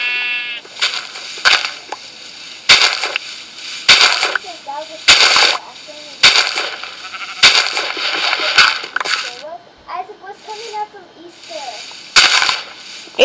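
Sheep bleating repeatedly and loudly close by, several wavering calls spread across the stretch, broken up by sharp cracking bangs.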